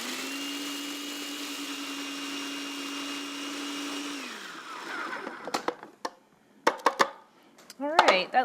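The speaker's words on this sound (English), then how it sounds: "And then the juice of 1/2 of a lemon. And blend until everything is mixed." A kitchen blender whirs steadily, mixing lemon juice, parsley and sunflower seeds into a dry crumble topping for roasted beets and yams, then winds down after about four seconds, followed by short clatters and a voice.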